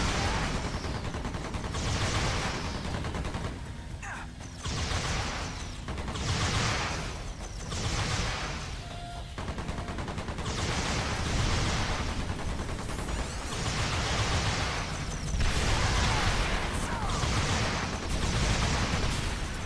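Rockets and gunfire in the video game EDF: Insect Armageddon make a dense, continuous barrage of blasts and rattling shots, with repeated explosive bursts that swell and fade over about twenty seconds.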